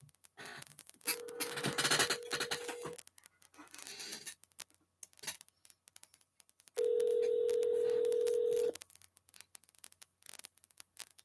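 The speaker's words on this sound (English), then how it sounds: "It's ringing." Telephone ringback on an outgoing call to an 800 number, two long electronic ring tones a few seconds apart with clicks and line noise between them, heard alone without talk.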